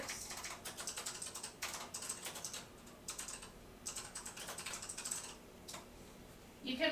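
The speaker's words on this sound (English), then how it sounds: "I'm typing it in the chat for you." Rapid keystrokes clatter on a computer keyboard in uneven bursts of quick taps with brief pauses, close and fairly quiet, ending with a faint voice at the very end.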